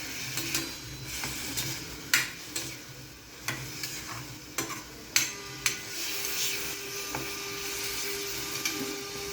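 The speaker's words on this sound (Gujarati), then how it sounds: "એકદમ સરસ રીતે થઈ જાય ત્યાં સુધી આપણે એને હલાવતા રહીશું" A spoon scrapes and clicks against a pan at an irregular pace while karela (bitter gourd) curry sizzles softly underneath, close and moderately quiet, with no talking.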